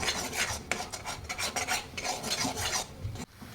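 A spoon stirs a stiffening peanut dal laddu mixture with coconut powder in a pan, giving close, steady, rhythmic scraping and rasping strokes that fill the whole stretch with no talk.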